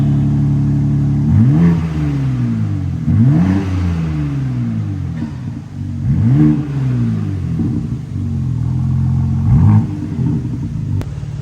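BMW G8X with its exhaust valves opened revs repeatedly, four loud deep swells rising and falling in pitch, each with a throaty rumble, close by and alone.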